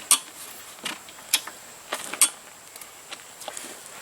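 A United hit-and-miss engine made by Associated is turned over by hand under compression, giving a few faint, sharp mechanical clicks and ticks at irregular intervals against near silence.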